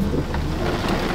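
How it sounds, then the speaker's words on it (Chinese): Heavy storm rain pours down in a brief, dense, steady roar on a foggy mountaintop, with a low rumble underneath. "这雨真的下得太大了。"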